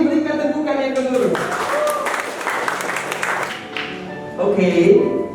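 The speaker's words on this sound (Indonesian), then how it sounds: "Sekali lagi berikan tepukan yang kedua." A second round of applause from wedding guests at a marriage registration ceremony, a few seconds of close, dense clapping with a voice talking before and after.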